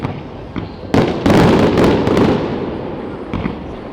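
Fireworks shots launch and burst at a winter display, with several sharp reports in quick succession, loud and fairly near, over a rumbling background and a faint voice.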